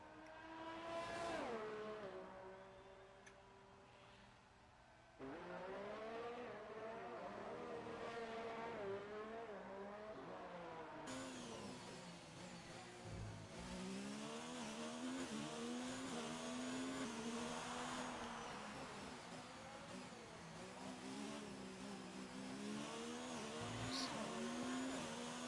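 An F4 race car engine in a racing video game on the Azerbaijan circuit drones continuously for the whole stretch, its pitch climbing through gear after gear with sharp drops at upshifts, sustained and fairly quiet.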